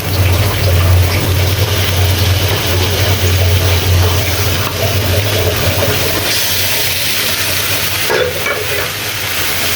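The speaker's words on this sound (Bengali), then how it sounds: "কচুর শাকটা দিয়ে এইভাবে ভেজে নিব, যাতে নিচে লেগে না যায়" Taro leaves fry and sizzle in a pan over ground spices, a dense continuous hiss with scraping stirring sounds close by.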